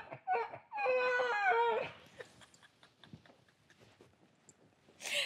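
A woman imitates the thin wavering cry of a small infant, a short burst of sobbing wails up close, followed by quieter breathy sounds and faint talk-like noises.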